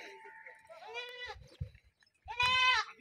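A DDP goat on a farm, being milked, lets out two close, wavering bleats with a pause between them, while low handling thumps sound underneath.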